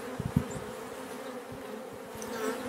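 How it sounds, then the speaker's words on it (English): Many honeybees buzz around beehives in a steady, close drone, with a few louder passes near the start, continuous throughout with no talk. "sorry there's so many bees, but it'll be fine"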